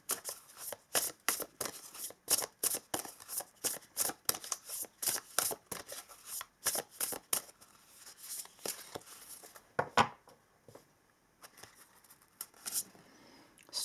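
Oracle cards being shuffled by hand, a rapid series of crisp papery riffles and flicks in quick rhythmic bursts, close and quiet, thinning out toward the end.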